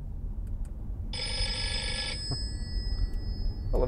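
The old-phone ringtone of a 2015 Audi RS4 Avant's car system sounds as a single brief electronic bell-like trill, clear and close, in a quiet cabin with faint background noise.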